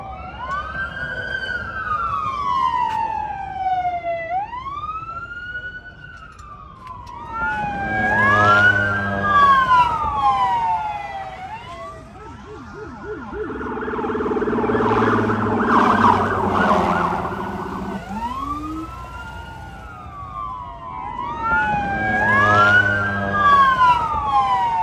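Ambulance siren approaching on a wailing up-and-down sweep, repeating cycles that grow louder as it nears, with a rougher horn-like blast mixed in midway, no talk.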